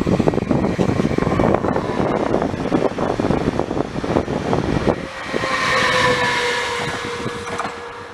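A freight train rolls past on the rails at the Brenner Pass, making a loud, close, continuous rumble and clatter of wagons. It thins into a hissing, singing rail tone near the end, and nobody speaks.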